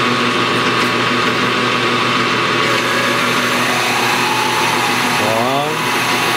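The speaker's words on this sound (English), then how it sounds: "I'm going to drill that about 800 thou deep." A drill runs with a steady, loud motor whine and grinding hum, drilling a hole about 800 thousandths of an inch deep in metal for a taper lock hub. Near the end its pitch wavers as it bites into the material.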